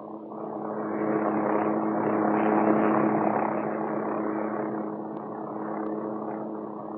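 A Hughes OH-6 Cayuse light helicopter in flight gives a steady, close rotor and turbine drone that swells slightly midway and holds a constant buzzing hum throughout, with no voices.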